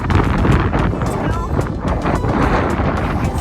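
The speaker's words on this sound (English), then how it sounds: "in the middle of like a windstorm of some sort" Strong windstorm wind roars steadily across the microphone outside the Prince of Wales Hotel in Waterton Lakes National Park, a loud continuous buffeting rumble with gusty surges throughout.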